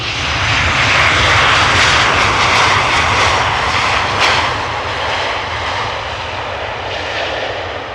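A KLM Boeing 737 jet arriving at Amsterdam Schiphol, a loud, steady broadband engine roar that stays close and strong throughout and eases slightly toward the end, with no talking.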